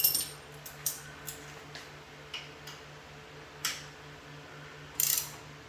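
A ratchet tightens small bolts on a luggage rack for a Moto Guzzi V7 Special motorcycle, giving quiet, irregular clicks and short ratcheting bursts against a faint, steady background hum.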